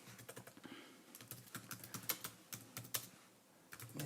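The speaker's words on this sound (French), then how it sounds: "Je vais taper un petit message." Someone types a short message on a computer keyboard while editing a Google Slides text box. Quick, irregular key clicks come close and fairly soft, with a brief pause before the typing resumes.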